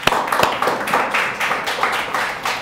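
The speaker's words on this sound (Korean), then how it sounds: "하나님께 영광의 박수를." A church congregation claps together during a Sunday worship service, a steady crowd of overlapping handclaps with a few sharp louder claps at the start, close and fairly loud for nearly three seconds.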